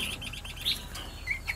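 A white-cheeked bulbul gives several short, high chirps over steady background hiss, fairly close and moderately loud.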